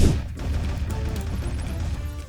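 Gunfire in the Roblox game Military Tycoon, with a dense rumbling barrage of shots and impacts that is loud and continuous, with almost no talking over it.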